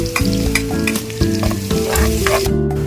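Garlic sizzles and crackles in hot oil in a pan, with close, continuous frying noise and intermittent stirring scrapes, no talking over it.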